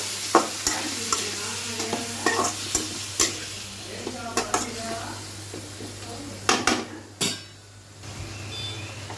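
Chicken with fennel seeds fries in a pan with a soft sizzle, broken by a series of sharp scraping knocks from stirring against the pan, close up and with no talking.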